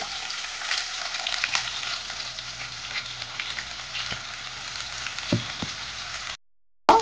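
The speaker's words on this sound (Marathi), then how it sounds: "आता त्याच्यात छान कांदा परतवून घ्यायचा आहे." Chopped onions fry in oil in a pot for mutton biryani, giving a soft, steady sizzle close up with occasional stirring clicks, cut by a brief silence near the end.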